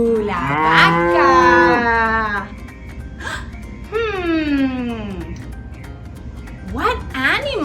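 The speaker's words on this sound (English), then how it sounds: "Moo, la vaca." A cow lows in long, drawn-out moos, two fuller calls followed by a short third, loud and close with nothing else behind them.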